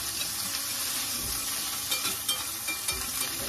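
Onions and garlic frying in melted butter in a heated pot give a steady close sizzle, with a few soft stirring knocks and scrapes.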